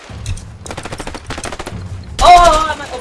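Rapid bursts of automatic gunfire from the A Way Out video game crackle loudly over excited talk between players, ending in a heavier blast.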